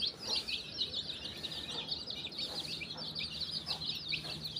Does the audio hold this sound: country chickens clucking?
yes